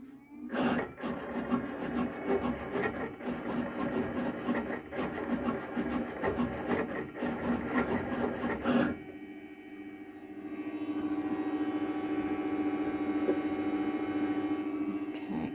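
A vinyl cutter slices a heat press transfer, its blade carriage making a fast, rhythmic buzzing rasp for several seconds before it stops, leaving a steady mechanical hum behind.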